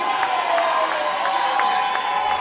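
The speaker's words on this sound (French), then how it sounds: "Je vous prie d'applaudir, s'il vous plaît, Alain Paluku." An audience at a talent show final cheers and applauds in a steady, continuous wash of crowd noise. A few louder claps or shouts stand out at regular intervals.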